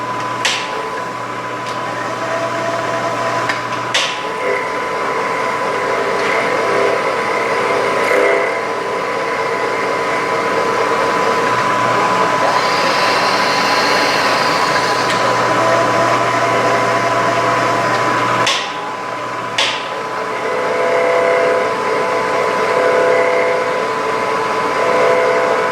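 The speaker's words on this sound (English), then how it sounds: "I'll use the bandsaw to cut some of it and trace it out" A bandsaw cuts a metal switch bracket for a Kubota BX25-D tractor grapple, a steady machine whine running throughout with a brief pause midway, loud and close, with no voices.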